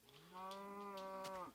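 A Minecraft cow gives a single sustained moo lasting about a second, clear and close with no other sounds around it.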